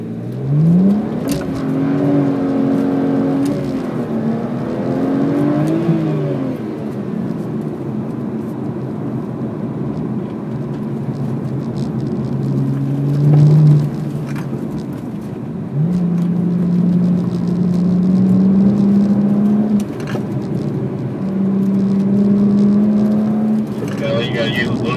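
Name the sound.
BMW 1M accelerating hard on track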